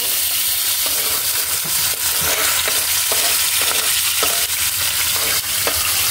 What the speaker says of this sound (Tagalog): mag-start na po tayo magprito mga idol kasi mainit na yung mantika